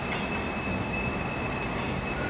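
Tram wheels squeal on the track, a thin, steady high-pitched whine riding over a dense rolling rumble, loud and continuous throughout with no one speaking.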